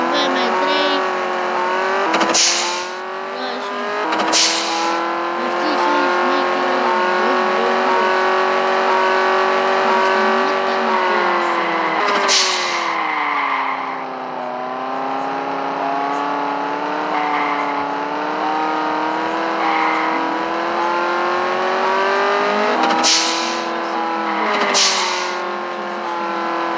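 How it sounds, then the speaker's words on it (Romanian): A 2010 BMW M3 drives and revs, its engine pitch climbing and falling through gear changes, with brief sharp bursts over the steady drone and voices talking at times. "Asta e BMW M3."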